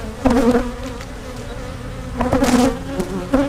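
A calm honey bee colony hums from an open hive full of honey, a loud close buzz that swells in two bursts with a steadier drone between.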